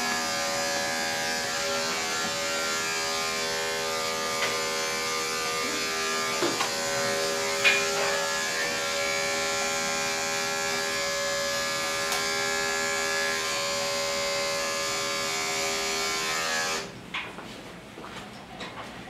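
Electric clippers run steadily during a hygiene trim of a matted dog's coat, a close, constant motor hum with harmonic whine for most of the span, cutting off near the end into brief rustling.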